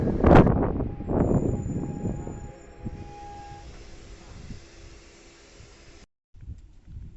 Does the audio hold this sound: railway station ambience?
yes